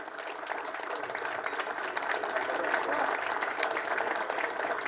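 A workers' assembly audience gives steady, fairly faint applause for visiting Venezuelan union comrades, with a dense patter of claps that lasts the whole stretch.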